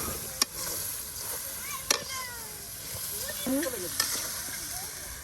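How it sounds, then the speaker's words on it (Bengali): Rice is tipped into a pan of frying spices, onion and chili for bhuna khichuri in Bangladesh, giving a constant close sizzle with a few sharp clinks and scrapes, and voices are faintly audible. "আর এখন সেই চাউলগুলো এই যে দিয়ে দেওয়া হচ্ছে।"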